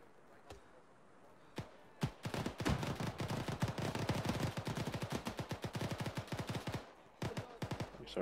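Gunshots ring out in a game, first a few single cracks, then a dense rapid burst of automatic fire lasting several seconds, followed by a few more shots after a short pause, loud against a quiet background.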